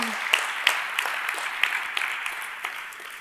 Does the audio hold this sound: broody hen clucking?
no